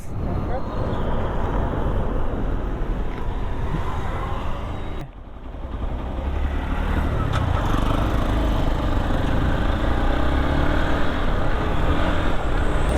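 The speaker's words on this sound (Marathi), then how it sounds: "एक्सपल्स चालवतो आहे, हिरोची एक्सपल्स आहे" A Hero XPulse 200 motorcycle being ridden on the Khopoli road, with steady engine drone and wind rush close up, a brief dip midway before the roar builds again, while a rider talks over it.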